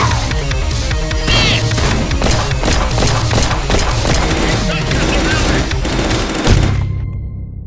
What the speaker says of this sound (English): let's shoot faster and with both hands